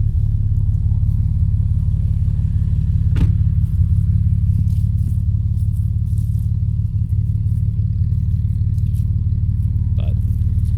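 Jeep TJ engine with the muffler deleted idles steadily and loudly, a deep continuous rumbling drone up close with no change in pitch, plus a faint tap or two over it.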